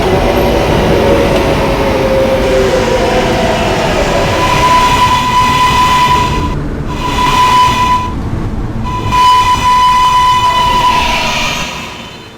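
Loud, continuous running of an R143 local subway train, a dense rumble and clatter with a steady high whine that starts midway, breaks briefly a few times, and carries on until the sound tapers at the end.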